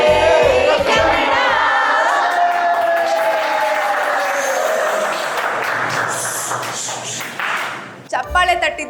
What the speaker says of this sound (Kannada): ಚಪ್ಪಾಳೆ ತಟ್ಟಿದ್ದು, ಸಾಂಗ್ ಹೇಳಿದ್ದು ಎಲ್ಲ ಸಾಕು.